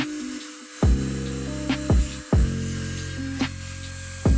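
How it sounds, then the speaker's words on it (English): A high-pitched rotary tool drilling into a Hot Wheels toy car's base whines steadily, with several sharp bursts as the bit catches and grinds, close and loud, no talking. "I'm drilling these two middle holders at the bottom"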